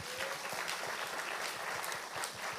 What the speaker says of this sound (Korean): 한 주간 열심히 살고 온 모두에게 우리 응원의 박수 한번 합시다.